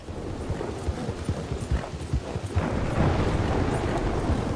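A horse in Red Dead Redemption II clip-clops along in a steady run of hoof falls, then the sound thickens into a louder, continuous rumble of galloping.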